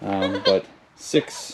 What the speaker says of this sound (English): we're down by the goats here.